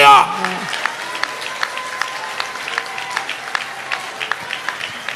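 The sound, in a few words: church congregation applauding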